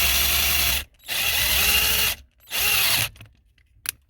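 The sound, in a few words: drilling a hole in aluminum with a self-tapping sheet-metal screw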